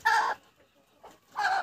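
Crested laying hens clucking in a farmyard, two loud close bursts of clucking separated by a quieter pause with faint movement.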